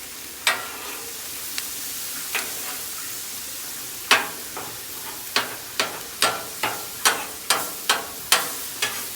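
Meat seasoned with Tony Chachere's browning on a griddle: a quiet, steady sizzle broken by a dozen sharp scraping clicks of a spatula, sparse at first and then coming in a quick, regular run.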